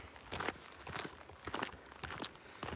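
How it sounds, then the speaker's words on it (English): Footsteps crunching along a gravel path in the Scottish Highlands, about half a dozen distinct gritty steps in an even walking rhythm, close to the microphone and moderately quiet, with no talking. "we're walking on a gravel path. So you're going to be hearing my footsteps along it."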